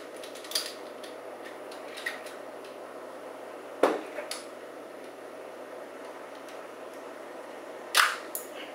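Ruger Mark III 22/45 pistol being taken apart, a series of sharp metallic clicks and clacks as the pin and bolt are pulled out, close up with quiet pauses in between.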